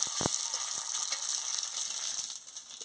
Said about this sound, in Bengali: এই দেখুন কি সুন্দর ভাজা হয়ে যাচ্ছে